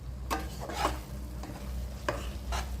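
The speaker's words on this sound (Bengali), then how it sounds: "এই পেস্টটার সাথে একটু আটা দিয়ে ভালো করে কষতে হবে," Spice paste mixed with a spoonful of flour being stirred and fried in a pan for a spinach-and-paneer dish, soft scraping strokes of the spoon recurring every half second or so over a faint steady sizzle.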